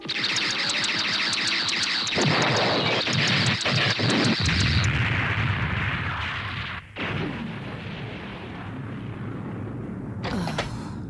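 Heavy artillery fire booms through an anime mecha battle in Hades Project Zeorymer: a loud, dense barrage of rapid, overlapping blasts and crackling bursts, easing into a rumbling aftermath before a final sharp burst near the end.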